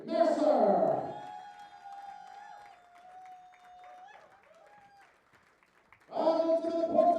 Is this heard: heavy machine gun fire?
no